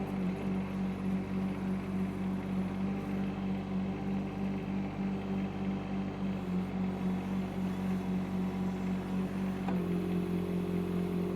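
Shanding mini excavator diesel engine revved to higher RPM, a steady near drone with a constant pitch that dips slightly near the end, no talk over it.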